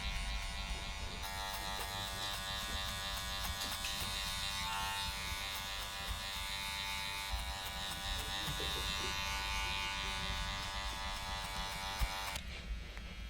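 Electric hair clippers buzz continuously while cutting a skin fade, a close, steady motor hum with slight changes in tone as the blade flicks through hair.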